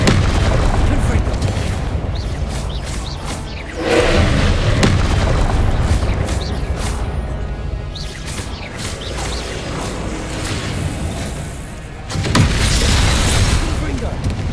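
Heavy explosive blasts from the Confringo spell in Hogwarts Legacy boom out loud over a dense battle din, with two big surges several seconds apart and voices mixed in.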